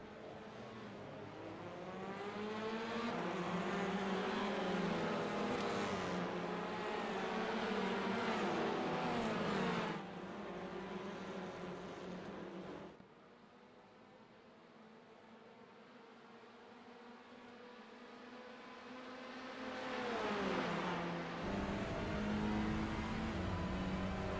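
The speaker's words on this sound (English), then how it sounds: "we're racing at Bathurst in the touring cars" Touring cars race around Bathurst in a racing game, engines droning and revving as they pull through gear changes, easing off then building again; a commentator's voice is faint underneath.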